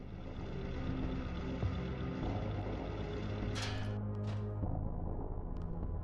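A mech engine in the video game Mech Engineer runs steadily, a continuous low droning rumble with a constant hum, joined midway by a brief higher mechanical whir and clank.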